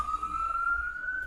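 An ambulance siren passing outside holds a steady, slowly rising wail, moderately distant and alone.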